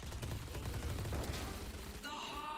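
Rapid bursts of gunfire in the video game Valorant, a quick run of clattering shots lasting a couple of seconds, fairly quiet in the mix.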